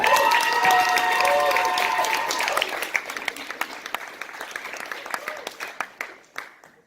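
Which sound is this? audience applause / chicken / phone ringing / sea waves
audience applause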